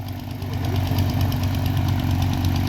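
Tractor engine running steadily in a rice paddy during field levelling, a continuous low rumble with a rhythmic mechanical throb, close and fairly loud throughout with no talking.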